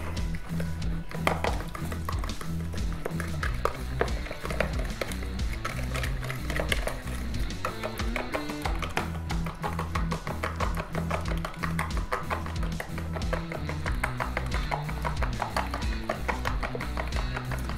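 An egg being whisked into a pretzel dough mixture, heard as rapid, continuous clattering and tapping of a whisk against a bowl, steady and close throughout with no pause.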